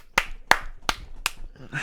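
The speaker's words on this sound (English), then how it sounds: "It's all slow clap" Four slow, evenly spaced hand claps ring out sharply and close by, followed by a faint voice at the end.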